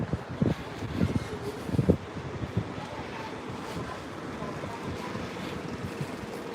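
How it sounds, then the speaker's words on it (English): Steady wind rumbles and buffets the microphone throughout on a Hong Kong city street in Happy Valley, with a few louder low gusts early on and nothing else standing out. "It is windy. It's quite windy."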